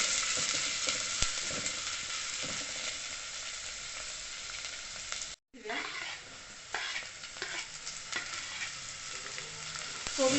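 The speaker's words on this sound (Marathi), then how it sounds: "बीन्स घालून घेऊया, स्वीट कॉर्न घालून घेऊया, गाजर घालून घेऊया, हे व्यवस्थित मिक्स करू" Beans, sweet corn and carrots are stirred in a hot pan, a close, steady sizzle and frying hiss with scraping spoon strokes, a brief cut to silence midway, then more stirring and clatter.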